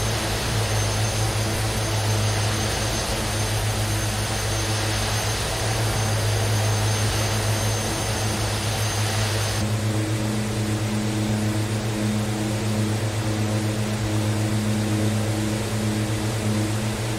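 Twin Otter twin-turboprop aircraft engines droning steadily in Microsoft Flight Simulator 2020, a constant loud propeller hum with strong low tones and a hissy upper layer that softens partway through.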